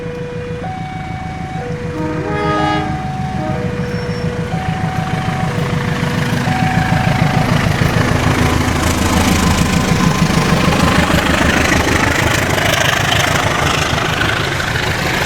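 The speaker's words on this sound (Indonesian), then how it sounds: "kereta api Probolinggo telah diberangkatkan dari stasiun Probolinggo" A train departs Probolinggo station with a loud, close engine rumbling steadily while a melodic chime of station or warning tones plays over it early on, and the noise builds as it moves off.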